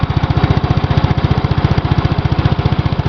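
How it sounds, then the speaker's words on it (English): Gravely 810 walk-behind tractor with a Kohler cast iron engine and rusty, noisy bearings runs loud and close, a steady fast pulsing chug with a gritty mechanical rattle, no voices. "the bearings are like rusty, so it makes a lot of noise"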